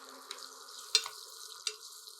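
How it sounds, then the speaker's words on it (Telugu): Green chillies fry in hot oil in a pan as tempering for a cucumber chutney, giving a soft, steady sizzle with a few sharp clicks of stirring, quiet and close with no voices. "కొద్దిగా పచ్చిమిర్చి వేగనివ్వండి"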